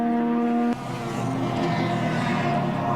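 A race car running flat out along the straight at the 1982 Bathurst 1000, engine climbing toward about 6,800 rpm; a steady, loud harmonic engine drone fills the whole stretch, its pitch shifting briefly early on.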